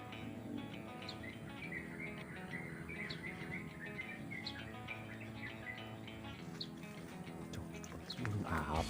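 Many small birds chirp and tweet repeatedly in a small forest in the afternoon, near and far calls overlapping over a soft steady background, with a brief rustle near the end.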